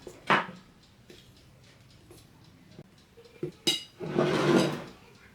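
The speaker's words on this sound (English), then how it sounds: "we'll start by mixing the all-purpose flour and the semolina flour" A spoon or utensil knocks and scrapes in a bowl while all-purpose and semolina flour are mixed, giving a few distinct clinks and taps, then a longer close scraping rustle near the end.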